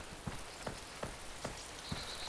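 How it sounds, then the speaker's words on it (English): Rain falling in the video game DayZ, a faint steady patter with soft, evenly spaced drop taps about every half second, heard alone without talk. "Ah, rain, that's great."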